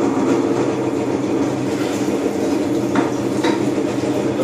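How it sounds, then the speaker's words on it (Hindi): A commercial fruit juicer machine runs while pressing oranges, giving a steady, loud mechanical whir with faint metallic rattles and a couple of brief higher scrapes near the end, and no voices. "दोस्तों, हमारी मशीन अब ये ऑन हो चुकी है।"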